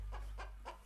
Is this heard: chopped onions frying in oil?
no